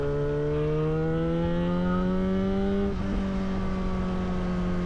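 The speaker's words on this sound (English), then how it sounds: "That's what a motorcycle should sound like, in my opinion." A 2011 Yamaha FZ6R 600 motorcycle engine runs close by with a steady, smooth harmonic drone. The pitch sags slightly and then settles, and no talking is heard.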